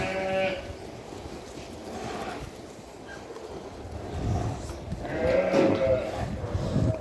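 An old ewe bleats in two wavering calls, one at the start and a louder one near the end, over steady outdoor background noise.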